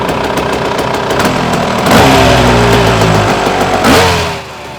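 A KTM 300cc EXC two-stroke motorcycle engine runs loud and close, revving up in two rising bursts with steady idling between and then dropping away at the end.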